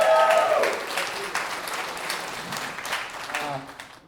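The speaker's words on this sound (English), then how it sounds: "Just give yourself a round of applause." A stand-up comedy crowd breaks into applause, a steady wash of clapping that carries through, with a voice talking over it at the very start.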